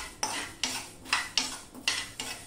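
Coriander seeds and two chillies are dry-roasted in a pan, stirred with a spatula in six even, rhythmic scraping strokes, each a short rasp close by.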